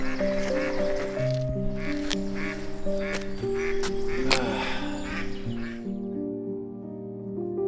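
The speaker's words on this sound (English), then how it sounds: "These ducks are going insano style." Several ducks quack loudly and repeatedly close by, a busy overlapping chorus that thins out toward the end.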